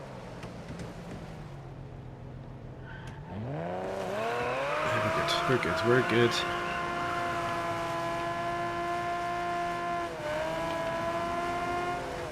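Jaguar D-Type race car engine in Test Drive Unlimited Solar Crown, heard from outside: a low idle rises into a loud, sustained revving drone with rapid gear-shift blips, then holds steady with a brief dip, while a voice speaks briefly.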